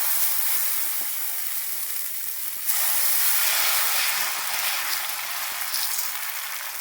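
Dosa batter sizzling on a hot pan, a steady dense hiss close by that suddenly swells louder partway through and then holds, with a few faint clicks underneath and no talking.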